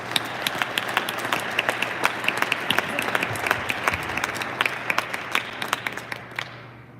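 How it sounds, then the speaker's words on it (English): Audience applause fills a board meeting held at a high school, a steady wash of many hands clapping with sharp individual claps standing out, sustained for several seconds before tapering off near the end. "Let's give them a round of applause"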